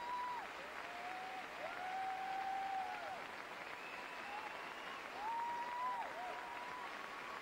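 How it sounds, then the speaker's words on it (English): Audience applause fills a standing ovation at a figure skating event at the 1990 Canadian Nationals in Sudbury, a steady even wash of clapping throughout with faint whistles and tones rising above it. "standing ovation in Sudbury"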